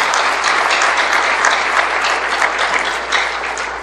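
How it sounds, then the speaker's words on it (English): A gala audience breaks into loud, sustained applause, dense clapping from a large crowd filling the room steadily without a break. "I think he deserves a big,"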